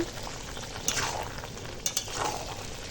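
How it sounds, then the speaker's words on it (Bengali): Potatoes being stir-fried with a splash of water, a soft bubbling sizzle with a couple of spatula scrapes against the pan, close and steady. "অল্প অল্প জল দিয়ে এখন কষাচ্ছি"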